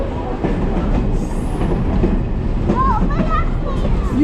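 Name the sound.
train riding on rails at fall train festival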